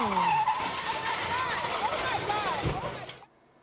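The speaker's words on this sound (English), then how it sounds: "a truck and a car hit the stalled black Honda involved in that initial crash with the big rig" Cars on the 60 Freeway in Rowland Heights skid with drawn-out tire squeals over traffic roar, ending in a sharp impact thud before the sound cuts off abruptly.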